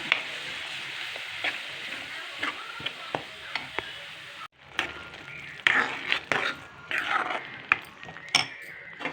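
Masala made from ground tomato and onion sizzles and fries in oil, with steady crackling, spoon stirring and occasional scrapes against the pan, moderately quiet and close.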